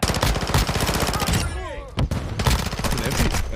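Modern Warfare II gameplay with dense, continuous automatic gunfire from an MP7 and assault rifles, loud and close, with a brief lull and a voice heard mid-burst before the firing resumes.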